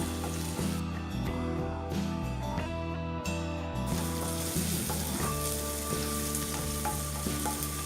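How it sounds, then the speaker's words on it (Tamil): Chopped tomatoes sauté with ginger garlic paste in a pan for a bitter gourd poriyal. A steady, loud sizzle and frying hiss runs unbroken throughout. "தக்காளியும் நல்லா வதக்கிக்கோங்க"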